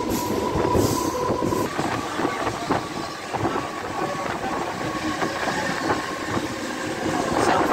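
A Mumbai local train runs steadily with rumbling wheels, rattling carriages and faint clickety-clack, joined by a thin metallic squeal, all heard close and continuous from on board.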